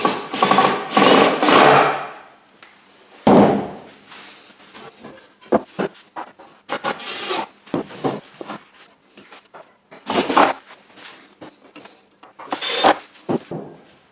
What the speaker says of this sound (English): take each screw and screw it into each of the corners